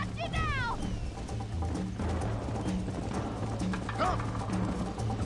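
Horse hooves clip-clop at a steady gallop in the Red Dead Redemption video game, with a whinny and shouted voices over game music.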